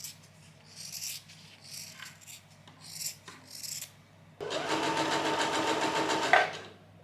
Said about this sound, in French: Là je vais juste bâtir à la machine, hein, coudre à 1 cm